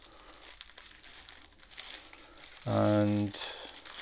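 Small plastic bags of diamond painting drills crinkle and rustle as they are cut open, close and soft under a speaking voice, with a brief tonal buzz partway through.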